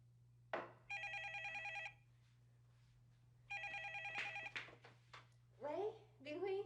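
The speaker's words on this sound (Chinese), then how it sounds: "拜托你帮我拍一个电话转出去，甲丽玲讲一声" A telephone rings twice in electronic bursts, heard from the caller's end while an outgoing call connects in an indoor drama scene, over a steady low hum; a voice comes in right after the second ring.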